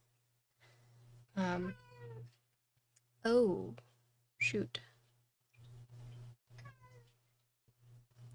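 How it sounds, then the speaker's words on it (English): A pet cat meows several times in distinct, drawn-out cries, close and fairly loud, separated by short pauses, with brief speech and a low background hum. "my cat took a big poopy and started meowing"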